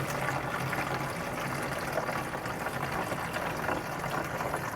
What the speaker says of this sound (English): we're going to strain them into this water can